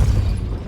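A Depulso force spell fires in Hogwarts Legacy with a short, loud, heavy boom and low rumbling burst that quickly trails off.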